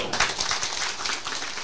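An audience at a political gathering in Tainan claps together, a dense, continuous patter of many hands heard briefly at a moderate distance.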